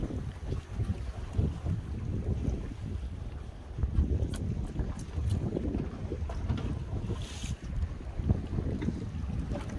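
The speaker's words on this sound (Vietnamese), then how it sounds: "Sóng gió bạt ngàn luôn." Strong wind roars and buffets the microphone aboard a fishing boat at sea off Con Dao. Waves and the boat's rumble sound steadily underneath, with no talk.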